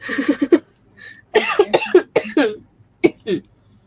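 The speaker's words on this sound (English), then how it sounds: "Sorry to those who I just coughed in your ear." A series of harsh coughs close to the mic, a quick burst, a pause, then a longer cluster and two final coughs.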